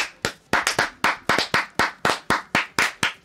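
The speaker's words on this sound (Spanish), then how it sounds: "Por favor, aplausos." A single person's hand claps in an uneven rhythm, about a dozen sharp, close claps over a few seconds, heard on their own during a Spanish-language indie gaming podcast.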